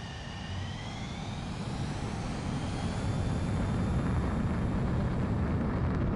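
A fighter jet in Ace Combat 7 roars steadily on takeoff, a loud, continuous engine rumble with a rising whine layered on top throughout.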